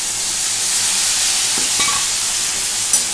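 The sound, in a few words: stir-frying prawn curry with taro and potato in a pan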